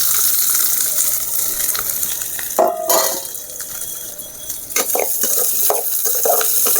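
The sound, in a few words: small onions frying in hot oil for egg podimas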